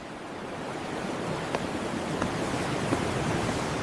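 Steady roar of sea waves washing against rocks on the coast at Busan, South Korea, broad and continuous, with a few brief splashes rising above the constant surf.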